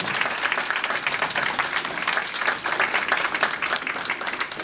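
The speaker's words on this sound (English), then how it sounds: "one final applause for everybody today here who made everything possible" Sustained applause from a large crowd at an outdoor interfaith solidarity march in Los Angeles, dense steady clapping that stays loud throughout without a break.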